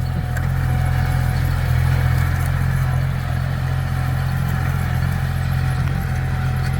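A 40-horsepower tractor engine chugs steadily with a deep, low rumble, running continuously close by with no voices.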